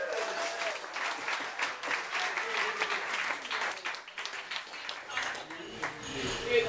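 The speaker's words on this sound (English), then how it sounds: "Can we all do an applause break while I drink?" A comedy club audience in Whistler, BC breaks into sustained, dense applause, steady and loud throughout, with a voice speaking over the clapping.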